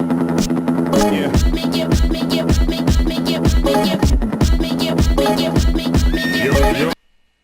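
A horse neighs in loud, repeated whinnies over a steady rhythmic beat with strong musical tones, the calls recurring throughout before the sound cuts off abruptly near the end.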